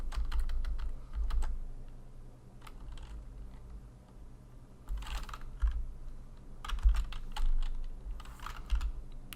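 Keys clatter on a computer keyboard while someone writes Python code, bursts of quick clicks and taps close up, with short pauses between flurries and no talking.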